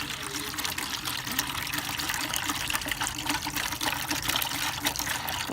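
Clean water splashes and trickles steadily as it is poured into a bowl for a sad rescue dog. Someone talks over the continuous close pouring.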